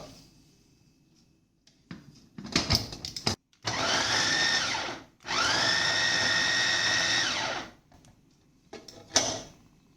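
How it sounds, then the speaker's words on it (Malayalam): Electric food chopper chopping chicken for a Malabar bird's nest snack: several short motor bursts, then two long whirring runs with clattering between them, close and loud, with no talking. "എനിക്കിപ്പോൾ ഒരു ചോപ്പർ ഉള്ളത് കാരണം ഞാൻ ചോപ്പറിലിട്ടൊന്ന് ചെയ്യാൻ പോകും കേട്ടോ"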